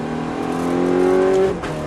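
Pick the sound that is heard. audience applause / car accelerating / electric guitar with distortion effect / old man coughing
car accelerating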